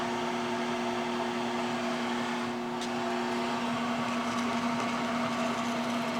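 A shaft turns steadily in a lathe steady rest with brass guides while a farm implement part is being fabricated, giving a constant machine hum with strong tonal lines that stays even and close throughout.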